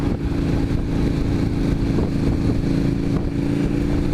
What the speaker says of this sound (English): I do like the twin exhaust, and it sounds fantastic when it gives it so.